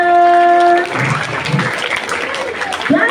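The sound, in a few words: children clapping for a classmate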